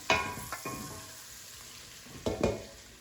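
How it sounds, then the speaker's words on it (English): Sausage fries in a soup pot, a soft ongoing sizzle broken by a few sharp clinks and stirring knocks at the start and near the end, with no voices. "Okay, I'm gonna add the sausage."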